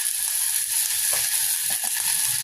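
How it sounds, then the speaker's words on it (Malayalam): Onions sautéing in a pan make a continuous close sizzle with a few faint stirring clicks, and no voices are heard. "ഉള്ളി ഒരുവിധം വഴന്നു കഴിഞ്ഞ് നമുക്ക് ഇത്തിരി മഞ്ഞൾപ്പൊടി ഇടാം"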